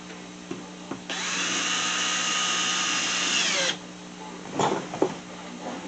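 A power drill drives a 2.5-inch deck screw into wood for a dog training platform, a single steady whirring burst of about two and a half seconds, close and fairly loud, followed by a few faint knocks and handling clatter.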